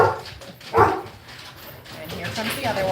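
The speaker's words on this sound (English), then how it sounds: "And here comes the other one." Two Labrador retrievers barking nearby indoors, a couple of sharp bursts with a louder bark near the start, set against room noise while a person talks throughout.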